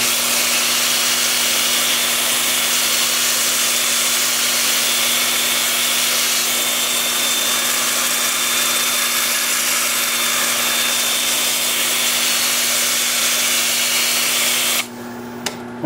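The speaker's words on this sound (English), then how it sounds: "Time for sanding." Wood-turned piece being sanded on a spinning lathe, a steady loud whirring hiss with a constant motor hum running unbroken throughout, stopping abruptly at the end.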